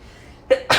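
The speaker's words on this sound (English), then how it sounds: "I feel like I gotta sneeze." A single person sneezes close to the microphone, with a short indrawn breath followed by a loud, sharp burst of air, during an indoor knitting chat.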